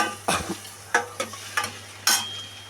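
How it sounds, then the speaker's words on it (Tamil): Bursts of stirring and sizzling as onions and green chillies are sautéed in a pan, several scraping strokes spaced about half a second apart over a low steady hum. "மூணு பச்சை மிளகா எல்லாத்தையும் போட்டு வதக்கி"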